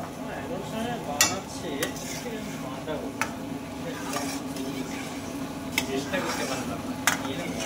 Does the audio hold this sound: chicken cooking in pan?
yes